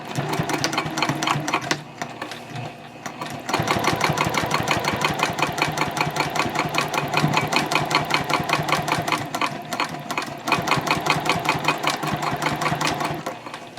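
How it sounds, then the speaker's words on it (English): A sewing machine stitches bowler bag lining panels at a 4.0 stitch length, its needle chattering in a fast, even rhythm close by. It stops briefly, then runs on steadily without voices. "now I'm going to stitch 1/4 of an inch away from that seam line"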